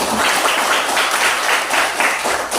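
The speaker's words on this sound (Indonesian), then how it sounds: "Tepuk tangan untuk semuanya" A class of students applauding together in a classroom, dense, loud clapping sustained evenly for a couple of seconds, close up with no talking over it.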